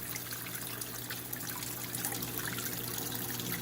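A steady, soft trickle of water from an aquarium waterfall tank in a fish room, continuous and even throughout with no voices.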